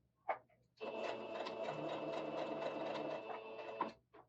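A sewing machine stitches a shirt collar in one steady whirring run of about three seconds, preceded and followed by brief handling clicks, close and fairly quiet.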